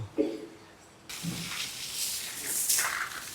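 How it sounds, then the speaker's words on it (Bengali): Water sprays across a cattle shed floor during washing. A soft, quiet start gives way after about a second to a steady, broad hiss of spray that swells and shifts as the stream moves, with no clear speech. "এখন আমরা পুরো ফ্লোরটা ধুয়ে দেব"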